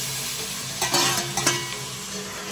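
Spices sizzle in hot oil in a pan for a village-style chicken curry, with a steady frying hiss and a few scraping stirs of a spoon near the middle.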